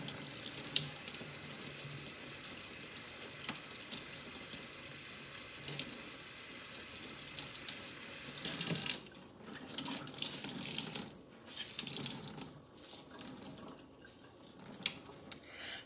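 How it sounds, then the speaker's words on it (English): Water runs from a sink faucet as a microfiber cloth is wetted under it. A soft, steady stream flows at low volume, then turns into uneven splashy surges near the end as the cloth meets the flow. No one speaks. "I'm just going to get my EnviroCloth wet with water here at the sink."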